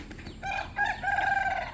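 Chickens cluck in a rural farmyard while a rooster crows in drawn-out, tonal calls across the middle and end, close and clear against a steady background hiss.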